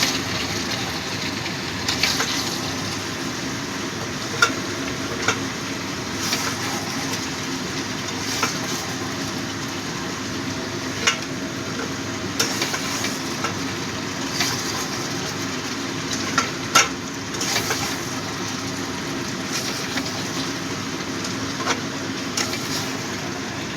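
Mutton sizzling steadily over a medium flame as its released water cooks off, a continuous broadband frying hiss with occasional small pops and clicks, no voices.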